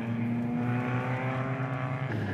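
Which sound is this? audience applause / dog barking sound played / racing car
racing car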